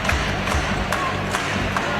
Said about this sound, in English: Lively crowd again. This is playoff basketball.